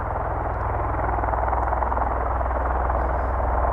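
V-22 Osprey tiltrotor aircraft flying near RAF Mildenhall, a steady loud rotor drone with a pulsing low thump throughout, no talk.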